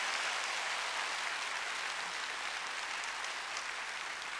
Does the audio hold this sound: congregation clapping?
yes